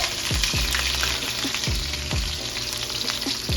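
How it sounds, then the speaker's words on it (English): Onions frying in hot grease for ackee and saltfish make a strong, close sizzle with repeated sputtering pops and stirring scrapes, with no voices. "First I'm putting my onions in my grease."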